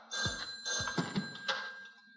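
A telephone rings in a domestic comedy scene, several short bursts of bright bell trills in quick succession, close and clear.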